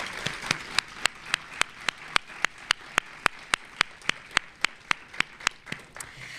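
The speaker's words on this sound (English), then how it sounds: "Can we please give our schools a round of applause?" Applause for schools at a school district's state-of-the-district address: one nearby pair of hands claps sharply and evenly, about four times a second, over a softer background of crowd clapping.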